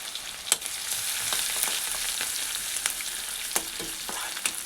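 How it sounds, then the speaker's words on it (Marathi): Crushed garlic frying in hot oil with cumin and mustard seeds: a steady, close crackling sizzle with occasional sharper pops, no voices. "फोडणीत मस्त असा लसूण छान भाजून घ्यायचा आहे"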